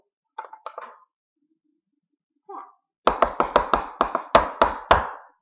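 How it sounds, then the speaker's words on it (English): Several sharp taps of a measuring cup full of flour knocked against a kitchen counter to settle it while baking, a quick run of close, loud knocks after a brief pause and a couple of earlier softer taps. "Keep tapping until it's settled."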